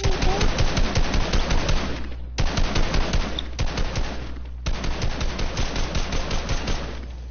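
Rapid automatic gunfire in an arena video game, loud sustained bursts of rattling shots in three long strings separated by brief pauses, no speech.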